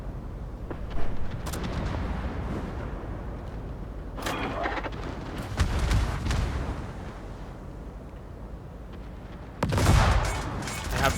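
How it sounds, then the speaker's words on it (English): Naval battle in World of Warships: a ship's secondary battery fires in repeated booming salvos, a loud burst near the start, mid-clip and near the end, over a rumbling background with no talk. "I have to make sure to fire the secondary battery first to lure them out."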